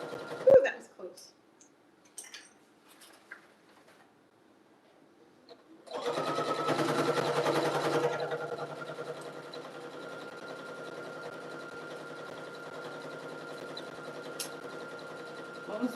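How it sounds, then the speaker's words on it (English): A domestic sewing machine stitches quilt pieces for a bargello jelly roll rug, a close, steady mechanical whir running for about ten seconds after some quiet handling noises and brief talk. "Okay, I'm gonna sew these two."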